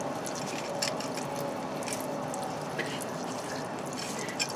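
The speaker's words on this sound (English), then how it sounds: "Now start draining your fuel out." Diesel fuel drains from the fuel filter of an Isuzu NPR truck in a steady, quiet trickle with faint dripping, close up and without talk.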